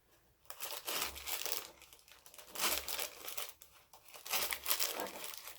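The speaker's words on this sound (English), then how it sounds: "the wax paper is going to make a little bit of noise on camera" Wax paper crinkles and crunches as it is bunched up for a pull-through wreath base, a close, loud crackling that comes in repeated bursts with no talking.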